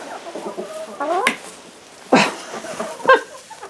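Chickens clucking close by, a few short throaty calls and squawks scattered over a few seconds.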